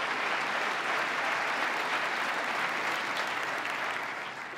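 A large audience at a state government address applauds steadily, a dense sustained clapping that thins slightly toward the end, with no voices on top.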